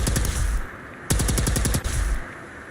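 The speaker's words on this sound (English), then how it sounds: "This gun has so much recoil, it's crazy." A heavy-recoil gun in Fallout 4 on Xbox fires two fast automatic bursts, each a quick string of loud cracks, separated by a short pause with game ambience underneath.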